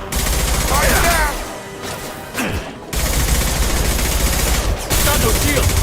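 Gunfire in the Mass Effect Legendary Edition video game, dense rapid automatic bursts with sharp shots and whooshing effects nearly throughout, with a brief lull in the middle and voices talking under the combat.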